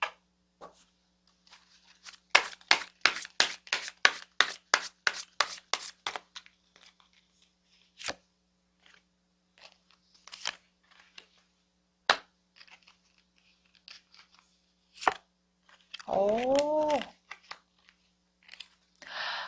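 Tarot cards are shuffled and drawn close up, with a fast run of crisp riffling snaps followed by scattered single card slaps and taps in a quiet room.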